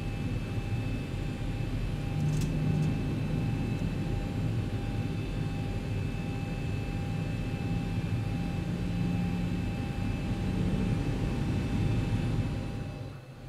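Simulated Boeing 737 taxiing in the X-Plane flight simulator with the ZIBO mod, a steady low engine rumble and hum holding at even level throughout, alone with no talk over it.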